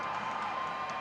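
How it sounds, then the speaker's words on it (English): At a high school hockey game, the crowd roars in a steady, sustained cheer filling the arena, with no single voice standing out. "Crowd on their feet."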